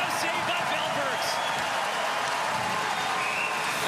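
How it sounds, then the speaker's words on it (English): Dense, steady crowd roar fills an ice hockey arena after a goaltender's save in a Sweden vs Latvia World Junior Championship 2025 quarterfinal. The loud cheering holds throughout, with a voice faintly underneath. "And the crowd comes alive."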